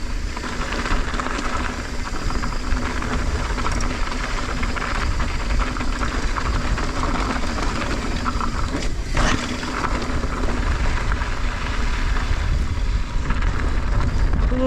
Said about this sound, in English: Oh, so much good wind out here.